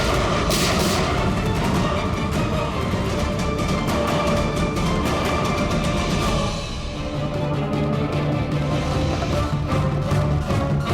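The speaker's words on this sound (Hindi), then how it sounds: "मुझे कवर करो और फायरिंग करते रहना" Gunfire rattles in a crime drama shootout, rapid bursts of loud shots and booms in quick succession, easing briefly before steady firing resumes.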